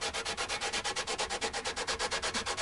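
Wet and dry sandpaper rubbing across guitar frets on a King brand Goldtop, a steady back-and-forth scrubbing of about fourteen even strokes, close and moderately loud with no talking.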